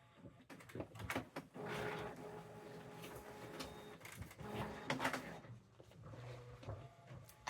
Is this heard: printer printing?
yes